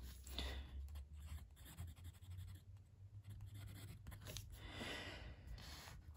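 A Muji fountain pen with a stiff steel Schmidt nib writes on paper, giving a faint, continuous dry scratching in short strokes and pauses. It is close and quiet, with no talk.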